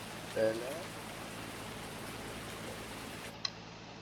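Rain falls in the farming game Farming Simulator 19, a soft, steady hiss of drops across the whole stretch, faint and even, with a brief tonal blip near the start and a click near the end.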